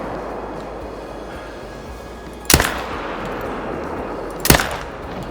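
Two sharp, loud hunting rifle shots in theHunter: Call of the Wild, fired about two seconds apart over a steady outdoor ambience, each with a short tail.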